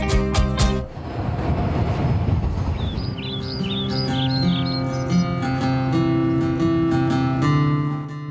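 Train carriage rolling on a nine-hour ride from Chihuahua into Copper Canyon, with a steady low rumble and tonal hum throughout, sharp clanks at the start, and faint chirping bird-like squeals in the middle.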